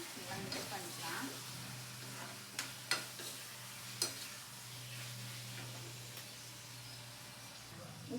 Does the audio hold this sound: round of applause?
no